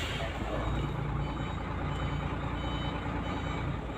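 A trailer truck reverses with a loud, continuous engine rumble close by, and its reversing beeps sound under the dense noise.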